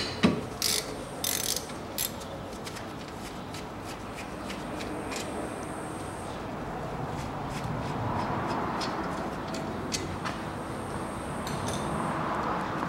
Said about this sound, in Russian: Откручиваю оба болта.